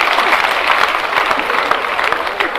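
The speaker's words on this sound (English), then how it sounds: "clap for me so that I can leave the stage" An audience at a Kenyan National Housing Corporation celebration with President Ruto claps in a steady, dense burst of applause that lasts the whole moment, close and loud.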